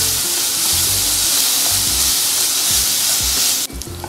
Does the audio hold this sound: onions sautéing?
yes